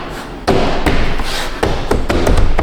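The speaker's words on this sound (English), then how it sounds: "literally just click the door in like that" Plastic door panel clips on a Buick Envision door snap into place: a quick series of sharp clicks and dull thumps, close up and loud, with no talk.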